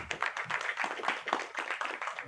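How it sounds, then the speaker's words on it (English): Applause from the audience at a press conference for a Goa street racing event, scattered hand claps at low volume over a couple of seconds, sounding somewhat muffled and uneven. "Let's give him a round of applause"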